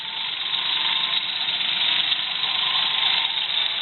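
A 1976 Jeep CJ7 engine idles steadily, a smooth, even mechanical hum held at constant loudness throughout with no talk over it.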